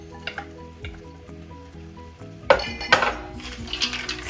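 Frozen green beans tumbling into a pot of cooking potatoes, a quiet simmer broken by a sudden loud hissing sizzle with clattering and scraping of the pot.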